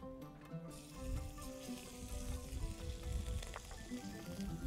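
Garlic sizzles in hot oil in a pan, a soft, steady crackling hiss with a faint tonal background, quiet and continuous, with no speech.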